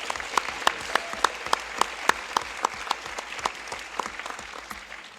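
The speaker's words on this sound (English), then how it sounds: "A round of applause to her." School board meeting audience applauding a grade 11 student artist, a sparse, moderately loud round of clapping with distinct individual claps in a loose, fairly regular rhythm, tapering slightly toward the end.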